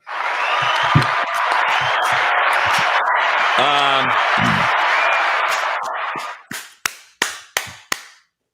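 A small crowd gives sustained applause and cheering at a college football talk show for about six seconds, then it fades into a few separate loud claps. A voice can be heard briefly under the applause.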